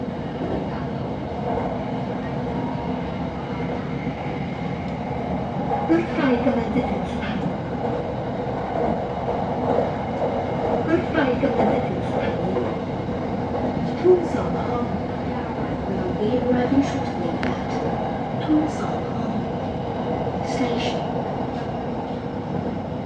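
Steady rumble and rattle from inside a Bangkok Red Line commuter train while it is moving, continuous and fairly loud, with faint clicks, a few brief higher squeals, and muffled voices in the carriage.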